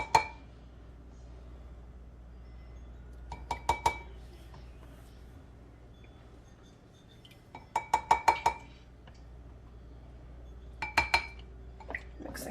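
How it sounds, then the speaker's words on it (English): A spoon stirs broccoli cheddar soup in a pot, making short clusters of clinks and scrapes against the metal, three or four quick taps at a time with quiet pauses between, close and fairly soft. "So I'm taking the soup and I'm mixing this"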